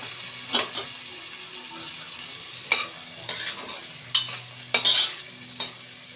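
Carrot and potato pieces frying in a pan for vegetable fried rice give a steady close sizzle, punctuated by several sharp spatula stirs and scrapes at irregular intervals.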